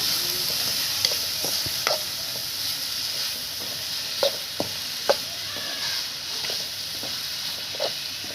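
Onion and egg curry with turmeric fries in a pan on a balcony, a steady close sizzle broken by occasional scrapes and clinks of a spoon stirring.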